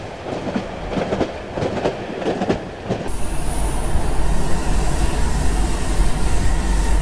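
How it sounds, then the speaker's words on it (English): An old Swedish-style subway train in the video game Cry of Fear rumbles along with rhythmic clacking, then swells into a steady loud roar with a high wheel squeal. "this train might actually be based on our subway"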